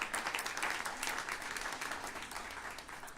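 Sustained audience applause at a downtown Asheville civic address, a dense, steady patter of many hands clapping continuously without pause for several seconds.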